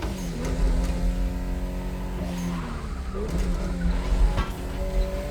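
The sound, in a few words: Toyota Supra engine in video game The Crew Motorfest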